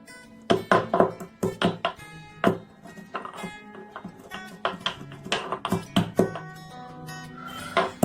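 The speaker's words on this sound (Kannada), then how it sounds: "Now take 1 tablespoon of pepper and crush this into coarse powder." Black pepper is crushed into a coarse powder with sharp, irregular taps and knocks in quick clusters. The pounding is close and loud, with short pauses between bursts.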